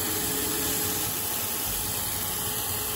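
Single-point threading of a 3/4-10 ACME thread in 4140HT steel on a Proto-Trak CNC lathe at 425 RPM, heard as a steady, continuous mechanical hum and whir with a faint high whine throughout.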